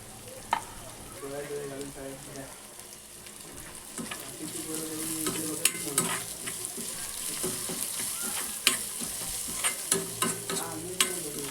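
Onion sautés in a pan after a spice paste for veg momo filling, a continuous sizzle under repeated scraping and tapping stirs, close and moderately loud, with a faint voice in places.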